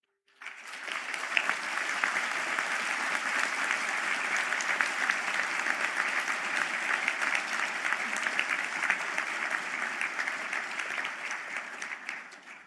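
Sustained applause from a seated audience at a university conferring ceremony in Galway for Construction Management graduates, steady and dense throughout.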